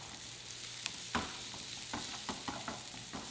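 Onion and shiitake mushrooms sizzle in a hot frying pan as they are stir-fried with a wooden spatula, a steady close crackle broken by soft scraping and knocking strokes at irregular intervals.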